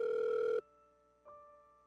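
A telephone ring tone sounds over the line during a call: one loud, steady electronic tone for about half a second, then quieter sustained tones with a second soft pulse, with no talking.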